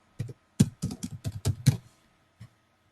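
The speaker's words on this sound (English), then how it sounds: "Typing out thoughts." Computer keyboard typing while entering contact notes: a quick run of about eight crisp key clicks close up, then one final isolated tap after a pause, with nothing else around them.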